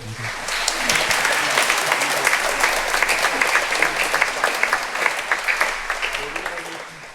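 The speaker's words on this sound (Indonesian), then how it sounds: "Kita beri tepuk tangan untuk" Sustained applause from a large crowd in a church during Mass, filling the reverberant space, steady and loud throughout with dense overlapping claps.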